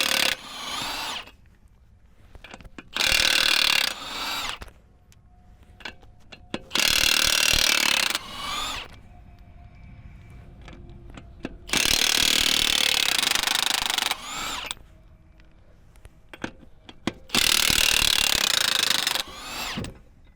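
A Milwaukee 3/4-inch high-torque impact gun takes nuts off 19.5-inch truck wheels, loud rattling hammer bursts of about two seconds each, four in all, separated by quieter pauses with faint clinks.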